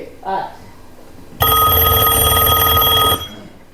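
An old-style telephone bell rings loudly and continuously for nearly two seconds in a stage play, after a short burst of speech.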